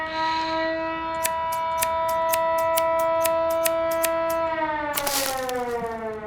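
A sustained wailing siren tone in the Schedule I video game holds steady, then bends downward near the end, with a regular ticking clicking beneath it and no talk.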